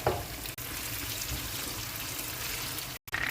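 Marinated chicken sizzles in hot oil with chopped garlic in a wok, a steady close frying hiss with a couple of brief dropouts.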